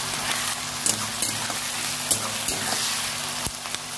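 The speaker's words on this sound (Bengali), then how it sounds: "পেঁয়াজটাকে একটু লাল করে ভেজে নেবো" Chopped onion with a dry red chilli and salt frying in hot oil in a pan for chicken curry, giving a steady, close sizzle with a few soft clinks from stirring and no talk.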